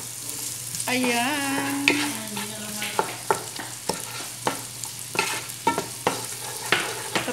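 Onion and garlic fry in a pan for sopas, a constant sizzle punctuated by repeated sharp clacks of a spatula stirring against the pan, with a brief spoken word and a hum in the background.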